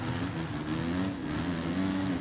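Motocross bike engine in the MXGP3 racing game at the Assen Grand Prix, a steady buzzing drone held near and loud through the clip, revving as the rider runs up through the gears.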